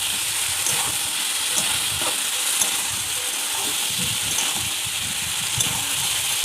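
Pointed gourd sautéed with ginger-garlic paste, cumin, salt and turmeric in a pan, a steady broad hiss of frying with occasional soft stirring knocks, close and constant.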